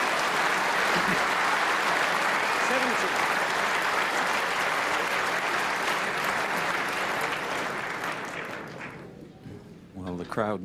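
A snooker crowd breaks into loud, sustained applause for a wonderful shot played at pace, the clapping dense and continuous before thinning out near the end as a commentator's voice comes in.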